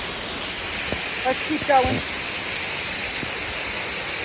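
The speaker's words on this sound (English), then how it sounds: "I'm in the waterfall!" Rushing waterfall seen from inside the falls on a hike, a steady broadband roar filling the whole clip, with a brief spoken remark and a few short vocal sounds rising over it near the middle.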